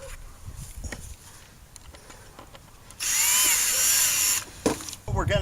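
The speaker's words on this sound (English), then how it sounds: "we're going to cut all 3 of these beams at 7 feet" A power saw bites through a wooden shed beam in a burst of roughly a second and a half, loud and whining, set against quieter workshop noise with a voice talking around it.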